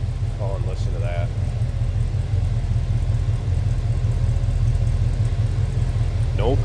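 A 1970 Chevrolet Chevelle hardtop's big-block V8 with a mild cam idles with a deep, steady, close rumble, and brief voices break in over it.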